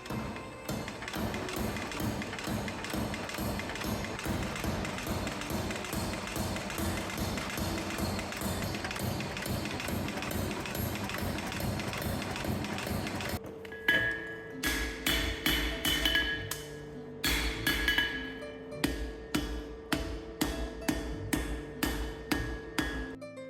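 Hot Damascus steel hammered while forging a knife, a dense steady run of strikes that breaks into sharp, ringing hammer blows with a metallic tone, close and distinct.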